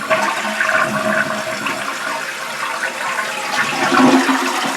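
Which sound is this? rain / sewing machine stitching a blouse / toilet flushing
toilet flushing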